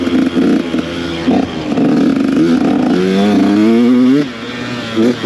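A dirt bike engine running rough at low speed, with a loud, uneven, lumpy idle, sputtering and surging, rising into a brief rev before it drops back and stumbles.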